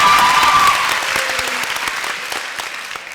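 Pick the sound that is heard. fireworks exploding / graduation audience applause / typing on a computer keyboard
graduation audience applause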